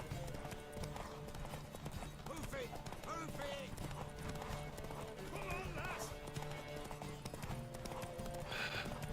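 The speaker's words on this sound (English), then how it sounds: "Oh, dude, you just lost that horse." A horse gallops in The Witcher 3, with rapid rhythmic hoofbeats and a whinny running throughout, heard together with game sounds and a person talking over it.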